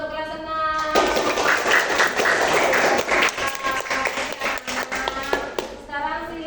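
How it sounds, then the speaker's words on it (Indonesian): Sixth-grade primary school pupils clap together in a classroom during a math lesson, a dense burst of close, lively clapping lasting several seconds, with a teacher's voice speaking before it starts and briefly afterward. "tepuk tangan untuk kelas 6"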